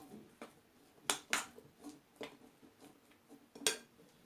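Chopped apples for a homemade snack stirred roughly in a bowl, giving quiet, irregular clicks and taps of a utensil against the dish, close and faint.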